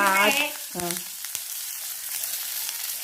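Crushed ginger frying in a pan, a steady broad sizzle that runs the whole time, with a brief voice at the start and a few soft clinks.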